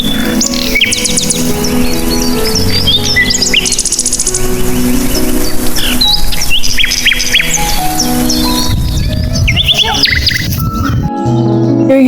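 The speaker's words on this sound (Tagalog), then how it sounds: "Itang daming ibon." Many birds chirp and call densely on a Tibetan mountain, with overlapping bright tweets and trills alongside a steady insect-like buzz. The chorus is loud and continuous, with no voices.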